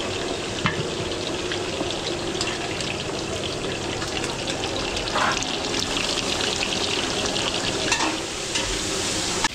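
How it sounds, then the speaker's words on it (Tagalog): Pork ribs fry and sizzle in hot oil while being stirred, as part of catering cooking for a golden wedding in a subdivision in Angeles, Pampanga. The sizzling is a steady, close hiss, with occasional scraping stirs and no talking. "magpa-fry tayo ng pork ribs"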